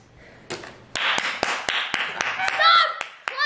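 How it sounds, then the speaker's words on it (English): Scattered hand claps at a kids' Pokémon card pack opening, sharp separate slaps in an uneven rhythm, close by, with an excited voice shouting over them. "Stop clapping!"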